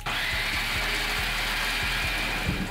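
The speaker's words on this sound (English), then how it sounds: "put them in your food processor. Whiz him up for 2 minutes" A food processor whirs steadily while blending a vegan meatball mixture, a continuous motor drone with faint rhythmic knocks, close and constant throughout.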